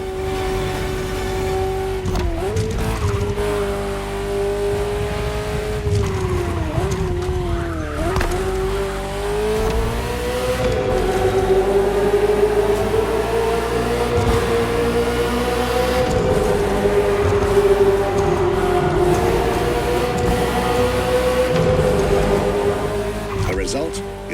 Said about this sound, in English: this Ferrari, bearing the apropos designation F40, was the last Ferrari automobile personally approved by Enzo Ferrari